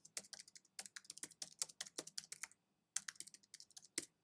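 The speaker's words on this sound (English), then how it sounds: "you can type in a little bit of information" Quick bursts of keystrokes clatter on a computer keyboard, close and quiet, with rhythmic clusters of taps, one short pause midway, then more typing.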